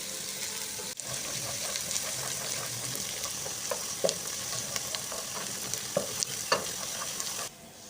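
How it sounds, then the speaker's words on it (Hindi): Onions frying over a medium flame in a pan, a steady close sizzle with occasional scraping stir strokes, no voices. "अब मैं प्याज़ों को अच्छी तरीके से मिक्स करने के बाद लाइट गोल्डन होने तक इनको फ्राई कर लूँगी"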